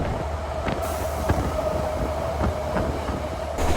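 A diesel train heard from the open rear carriage rumbles along steadily, with rhythmic clickety-clack of wheels over rail joints and faint wheel squeal over a continuous loud roar.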